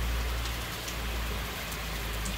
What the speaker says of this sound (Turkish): Saniyeler içinde arkadaşlar. Bereketli yağmur.